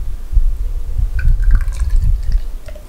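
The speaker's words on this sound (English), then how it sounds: "Pouring a very hazy light gold color" Hazy New England–style imperial IPA poured into a craft beer glass, a soft liquid gurgle and fizz with low sloshing pulses running steadily, close and fairly quiet.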